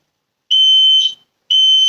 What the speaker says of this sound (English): Sorry about my fire alarm going off randomly.